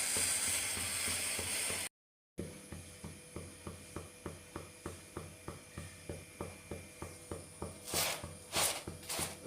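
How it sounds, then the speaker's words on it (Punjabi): A hand-operated fodder chaff cutter (toka) worked in a village, giving a steady run of rhythmic mechanical clunks and clicks about twice a second, close and continuous under a constant background hiss. "ਵਧੀਆ ਹੱਥੀ ਟੋਕਾ ਕਰਨਾ ਕਸਰਤ ਹੁੰਦੀ ਆ"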